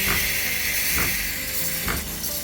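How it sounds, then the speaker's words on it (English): The steam wand of a Breville Bambino Plus espresso machine steaming, a loud continuous hiss close by with a few rhythmic pulsing bursts through the mechanism and no talking. "Now let's test the steaming by pressing the steam button."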